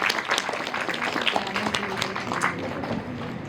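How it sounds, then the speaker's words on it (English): Applause from the audience at an interns meet event, a steady spread of clapping over the full stretch with some faint voices mixed in. "Can we have a huge round of applause for that?"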